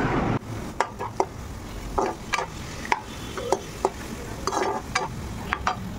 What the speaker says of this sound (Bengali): আলু ভাজা, ঝিরিঝিরি আলু ভাজা।